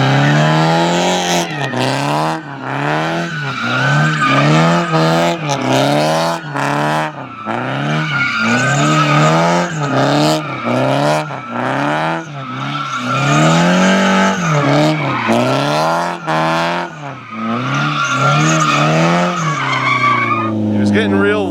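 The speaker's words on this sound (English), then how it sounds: "We skidded it." A Mazda Miata on 225 tires skids hard through repeated loud, wavering tire squeals that rise and fall. Short gaps separate the squeals, and voices can be heard in the car.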